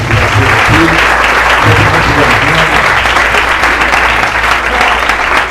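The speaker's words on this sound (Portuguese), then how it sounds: "Vamos aplaudir o Senhor de Deus aqui." A church congregation breaks into loud, continuous applause during a Sunday service, a thick roar of many hands clapping, with a voice faintly heard underneath early on.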